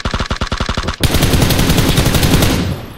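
Rapid automatic gunfire from a video game: a string of sharp evenly spaced shots for about a second, then a dense, loud, continuous burst of fire that fades near the end.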